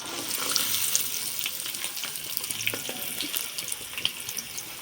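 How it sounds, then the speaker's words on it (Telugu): Chopped onions dropped into hot oil for a chikkudukaya (broad bean) curry give a steady, bright frying hiss with small crackles throughout, close and fairly even, with no voices. "ఇప్పుడైతే ఆనియన్స్ వేసుకుందాం"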